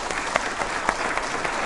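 An audience at an Indian quiz show on the legal system claps steadily throughout, a dense, even round of applause.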